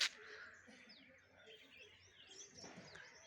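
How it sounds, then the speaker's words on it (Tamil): Birds chirp and tweet in scattered short calls around a quiet mango grove, faint and at a distance, with occasional soft cooing mixed in. "குருவி சத்தங்க கேட்குது."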